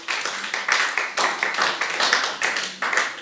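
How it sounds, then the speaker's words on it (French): Loud applause from a church congregation at a worship service, rapid hand claps in bursts that swell and dip across the whole stretch, close and dense. "Nous acclamons très très fort."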